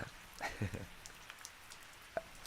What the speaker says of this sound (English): Is the rain audio or actual raining? It's audio.